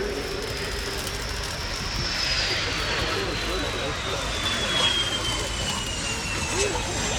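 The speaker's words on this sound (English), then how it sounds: "So here it is in for what should be a fairly short landing." A Swedish Air Force Saab JAS-39C Gripen fighter jet comes in for a short landing at an air show, its steady jet roar filling the scene with a falling whine, while a commentator talks over it.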